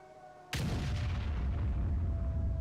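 An M44 self-propelled artillery piece fires in the World of Tanks game: one sudden loud boom after a quiet moment, followed by a long rumbling decay under faint steady background tones.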